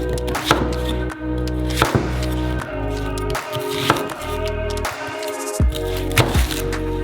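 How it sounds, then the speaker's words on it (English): A knife chops through an onion on a cutting board, giving sharp, evenly spaced thuds about once per second, close and loud over a steady background hum. "Cut each onion into 4 parts."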